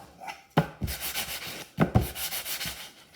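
A foam block rubs against a model rocket fin in quick back-and-forth strokes, producing close, scratchy rubbing sounds in two bursts of repeated passes.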